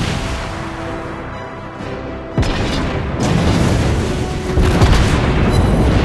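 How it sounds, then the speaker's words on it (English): A ship exploding in the World of Warships naval video game: one sudden heavy boom partway through, followed by a sustained loud rumbling roar that swells again near the end. "Enemy ship destroyed."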